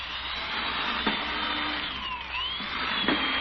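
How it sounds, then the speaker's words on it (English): Power drill with a bit tightened in the chuck, boring holes through a board, giving a steady loud whine that shifts pitch midway, with brief knocks as it bites. "Look how it drill holes through this board."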